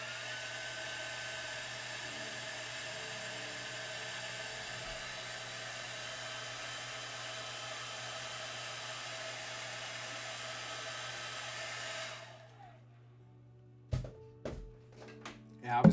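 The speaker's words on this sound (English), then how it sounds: "you just got to be careful when blow drying models" A hair dryer blow-drying plastic models, a steady close whirring roar that runs for about twelve seconds before switching off, leaving quiet room noise and a few soft handling bumps.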